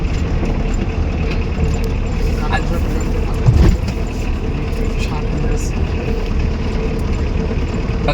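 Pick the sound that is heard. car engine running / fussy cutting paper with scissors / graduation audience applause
car engine running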